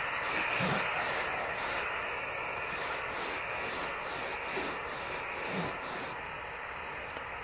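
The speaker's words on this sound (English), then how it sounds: "now it's going to release the steam" A floor steamer on carpet releases a steady, breathy hiss of steam, with a faint pulsing rhythm and occasional soft low thumps underneath.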